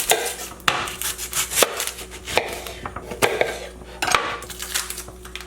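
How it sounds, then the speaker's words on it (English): A knife chops an onion on a cutting board, giving close, sharp, irregular thuds and cuts spaced about half a second to a second apart, with faint kitchen clatter between them and no talking. "So I'm gonna go and cut my onion."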